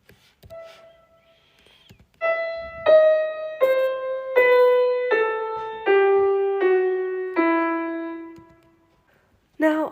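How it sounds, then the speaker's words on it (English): An E harmonic minor scale played as eight separate sustained notes, each ringing with clear overtones. The notes step steadily downward in pitch, evenly spaced, fairly loud and alone, with silence before and a short note at the end. "So this scale is the E harmonic minor scale."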